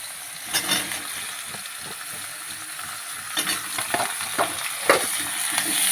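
Diced potatoes fry in a pan with tomato, onion and green chilli for a fish curry, giving a steady close sizzle broken by repeated scraping stirs of a spatula.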